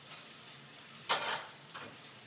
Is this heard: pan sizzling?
yes